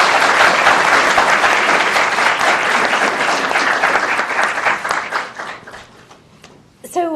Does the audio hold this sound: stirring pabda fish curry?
no